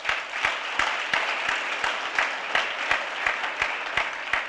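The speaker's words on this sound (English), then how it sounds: "Let's give him a round of applause." Audience applause for Senator Doug McCauley at an NAACP jobs campaign event, a dense wash of clapping from a crowd with a few sharp, rhythmic claps standing out near the microphone.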